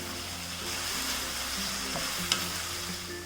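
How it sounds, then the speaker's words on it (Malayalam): Chilli yam being stirred into a tomato chilli sauce with vinegar, a steady sizzle with soft spoon scrapes and one sharper clink near the end, no voices. "ഒന്ന് ഇളക്കി കൊടുക്കാം"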